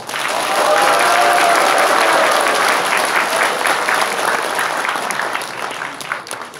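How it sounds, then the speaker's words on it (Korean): A large audience at a political rally or speech event claps loudly and steadily, a dense wash of applause that goes on throughout and slowly fades near the end. "오늘 큰 박수를 부탁드리겠습니다"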